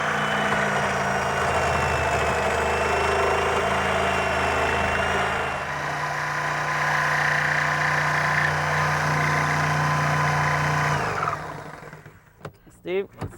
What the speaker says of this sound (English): Yes, I'm going to use a Sawzall.